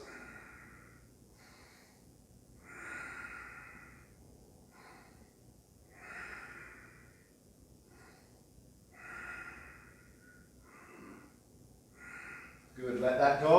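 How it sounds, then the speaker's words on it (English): Ujjayi breathing held through a seated yoga twist: slow, audible breaths close to the mic, rising and falling in a steady rhythm roughly every three seconds, with a louder rustle or breath right at the end. "5 Ujjayi breaths."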